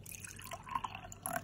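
A small amount of water trickles into a glass while rose-water face wash is being mixed at home, heard as faint, soft splashing and dripping with a brief louder burst near the end, quiet and close with no talking.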